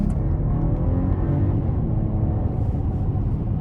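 A 2023 BMW 740i under full-throttle acceleration, heard from inside the cabin as a steady, dense low rumble with a smoothly rising engine note and constant road noise.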